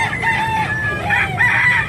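A rooster crows nearby, a long drawn-out call with rising and falling pitch, loud and clear against a steady background hum.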